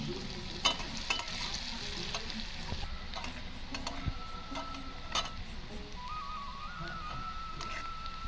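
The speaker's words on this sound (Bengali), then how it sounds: "পেঁয়াজটা হালকা করে ভেজে নেব।" Onion lightly frying in oil in a pan, a steady close sizzle with intermittent stirring scrapes and small clicks of a utensil, no talk throughout.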